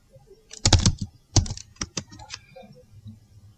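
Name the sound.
typing a terminal command on a computer keyboard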